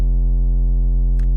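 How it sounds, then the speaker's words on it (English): A sine wave oscillator on an 808 synth patch in Serum plays a single sustained low tone, loud and steady with a buzzy harmonic edge, ending in a brief click. "It consists of an oscillator A, which is a sine wave, which sounds like this."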